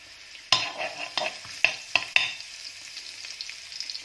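Garlic frying in a hot pan, a steady sizzle broken by several sharp clattering stirs of a utensil against the pan in an irregular rhythm, close and clear.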